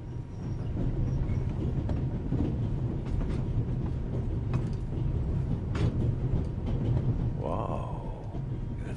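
Steady low rumble of a train rolling on rails in the video game The Raven Remastered, continuous and fairly loud throughout, with faint clicks and a brief voice-like sweep near the end.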